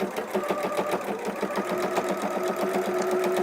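A sewing machine stitches a fabric triangle onto an appliqué cushion with a rapid, even, rhythmic whir from close by, continuous throughout with no talking.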